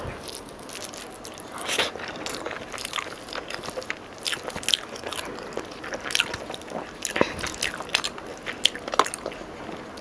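Close, wet chewing and biting of mutton curry with rice, with scattered crunchy and squishy mouth sounds at a steady, irregular pace and no talking.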